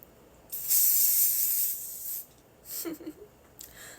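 Hairspray is sprayed onto hair, with one long close hiss followed by shorter bursts and a faint rustle between them, and no voices.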